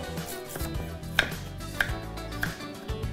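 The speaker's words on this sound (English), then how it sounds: "We're gonna start by chopping the sweet potatoes into bite-sized pieces." Sweet potatoes chopped into bite-sized pieces with a knife on a cutting board, a few sharp, close knocks spaced about half a second apart over a low background hum, no talking.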